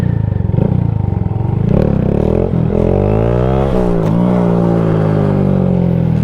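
A motorcycle engine idling and revving nearby, with a rough rattling clatter running through a steady low drone and a brief rise in revs partway through.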